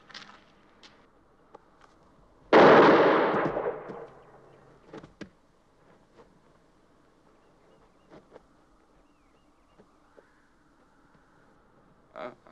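A single loud gunshot cracks out in a Wild West film gunfight, sharp and close with a short decay, then near-silence broken by faint scattered clicks and knocks.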